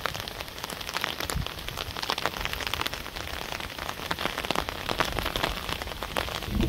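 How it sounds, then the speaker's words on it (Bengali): Heavy rain pours outdoors in a Bangladeshi village with strong wind, a dense steady patter of drops on surfaces, close and continuous, with no talking. "খুব জোরে বৃষ্টি নেমে পড়ছে।"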